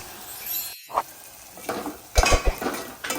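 A spoon stirs and mixes tomato-and-milk gravy in a metal pot, with several close clinks and scrapes against the rim over a soft background.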